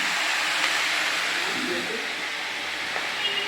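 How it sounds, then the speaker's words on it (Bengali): Pumpkin pieces fry in salted oil in a kadai and begin releasing water, a steady soft hiss and sizzle throughout, with a muffled voice faintly in the background. "ভাজার আওয়াজ কমে যাচ্ছে"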